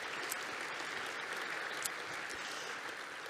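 A banquet audience applauds a sponsor at a natural resources celebration: dense, sustained clapping from a large crowd at an even, fairly loud level throughout, with no voices over it.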